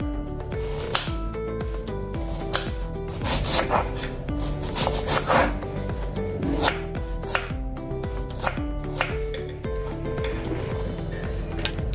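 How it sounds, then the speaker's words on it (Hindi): Onions chopped with a knife on a wooden board, a rapid, steady run of close, sharp thuds with occasional scraping, continuing without talk. "पहले प्याज को काटेंगे।"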